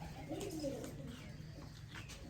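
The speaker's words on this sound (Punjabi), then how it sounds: "ਇਹ ਇੱਕ ਬ੍ਰਾਂਡ ਲੈਵਲ ਦਾ ਔਰ ਇੱਕ ਰਿਲਾਈਏਬਲ ਲੈਵਲ ਦਾ ਦੋਸਤੋ ਸਿਆਲਕੋਟੀ ਕਬੂਤਰ ਹੈ" A Sialkoti pigeon cooing softly up close, a short low rolling coo near the start, then fading into quiet background noise.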